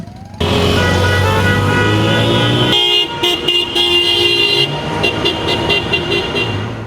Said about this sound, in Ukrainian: Стартувала колона машин та мотоциклів в супроводі патрульної поліції.